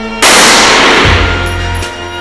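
A single very loud, close Glock pistol shot at a shooting range, a sharp crack with a long ringing decay and low rumble trailing off.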